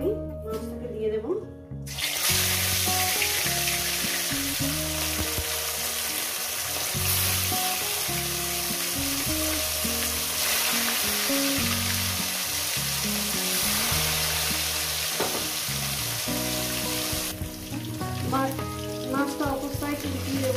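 Fish sizzles in hot salted oil in a pan for a Bengali fish curry, a steady loud crackle running throughout, with some talk over it and clinking of utensils.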